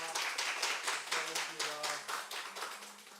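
A church congregation at a Sunday worship service claps in unison, a close, rhythmic series of about a dozen sharp claps at a steady beat, with faint voices beneath.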